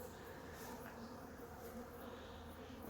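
Honeybees buzz around a hive after honey harvest, a continuous faint droning hum with slight swells as insects fly close, steady throughout.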